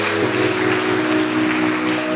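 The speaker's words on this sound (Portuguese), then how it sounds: "Você pode dar um forte aplauso a esse Deus maravilhoso?" Church congregation applauding during an evening sermon, a dense, steady clapping wash that fills the whole moment, with sustained keyboard or organ tones beneath it.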